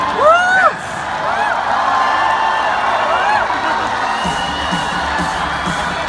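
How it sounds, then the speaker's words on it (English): Audience at the Miss Universe 2016 national costume presentation cheers and whoops loudly throughout, with shouts rising over a continuous crowd roar and scattered clapping. "Give her a cheer"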